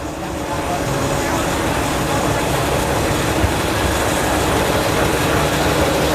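A train stands halted at Takeo station in Cambodia, its engine idling in a steady, unbroken low rumble with a dense wash of ambient noise over the whole stretch.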